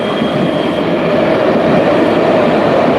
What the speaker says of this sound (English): Here we're seeing the train